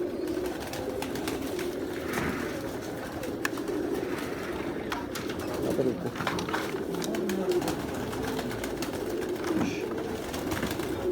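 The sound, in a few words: Missay breed pigeons cooing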